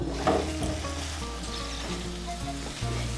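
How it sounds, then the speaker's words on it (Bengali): Okra cooked down with spices in a pan gives a steady, fairly quiet sizzle and light stirring scrapes, with a few low tonal hums underneath and no talking. "ঢেঁড়সগুলোকে মশলার সঙ্গে ভালো করে কষিয়ে নিয়েছি"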